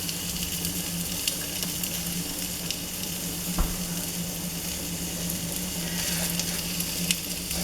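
Hamburger meat frying in a pan, a steady close sizzle running throughout as it is chopped up, with a few soft scraping knocks from the utensil.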